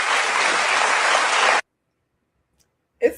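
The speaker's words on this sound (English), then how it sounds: "Like, what are we clapping about?" Audience applause fills the room, a dense, loud burst of clapping that stops abruptly, followed by silence and a brief voice at the end.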